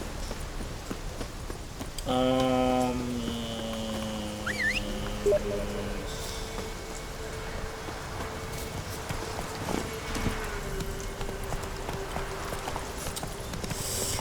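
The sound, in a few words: horse hooves in video game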